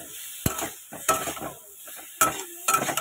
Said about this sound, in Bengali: এটাকে এবার ভালো করে নাড়িয়ে দিয়ে আমি একটু জল দিয়ে দেবো সিদ্ধ হতে